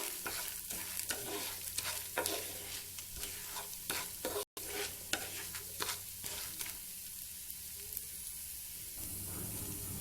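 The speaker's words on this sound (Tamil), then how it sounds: "சீரகம் ஒரு டீஸ்பூன் இதை எல்லாமே நல்லா மனம் வர வரைக்கும் வறுத்துக்கோங்க" Lentils and cumin dry-roasting in a pan for paruppu thuvaiyal, brisk spoon stirring with rapid scraping clicks and a soft sizzle, close up, easing to a quieter hiss near the end.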